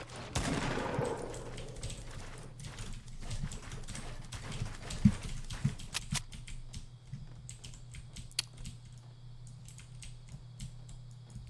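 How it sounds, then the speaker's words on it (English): Gunfire in Fortnite: a loud opening blast followed by scattered sharp shots and clicks over a low steady game hum, fairly quiet overall with no talking. "It's a lot louder when I'm shooting this gun for some reason."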